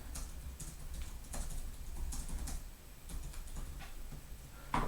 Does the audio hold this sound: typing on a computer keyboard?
yes